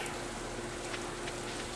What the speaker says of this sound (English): It's raining again today.